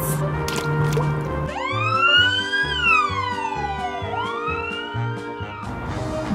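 An ambulance siren wails, rising and falling in long sweeping tones, loud and close, over a bouncy repeating beat.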